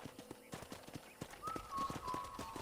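Steady clip-clop of horse hooves at a walking pace in the video game Red Dead Redemption, with a faint synthetic tone sounding partway through.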